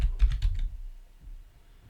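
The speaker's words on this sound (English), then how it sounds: "we type Control A to select that text" Several quick computer keyboard keystrokes, close and fairly loud, type a shortcut while editing a spreadsheet chart, then the room goes quiet.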